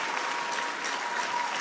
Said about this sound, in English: I'm going to put our hands together for Miss Folake that just spoke.